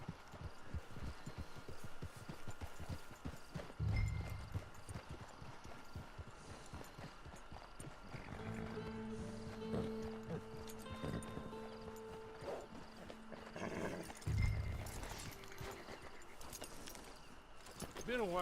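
Horse hooves clip-clopping at a walk in Red Dead Redemption 2 online, a steady rhythmic patter under game dialogue and background music, moderately close.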